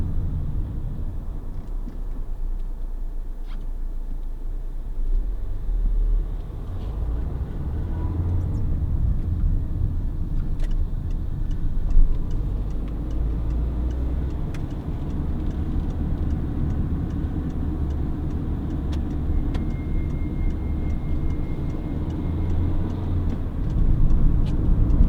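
A Peugeot 207 1.4 HDi 70 panel van on the move, its diesel engine and road noise forming a steady low rumble heard from inside the cab, with no talking.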